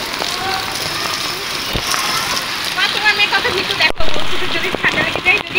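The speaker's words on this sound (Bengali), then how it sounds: "বৃষ্টি পানিতে গোসল হয়ে গেল।" Rain falls in a steady, broad hiss on the ground and water nearby, while people talk over it.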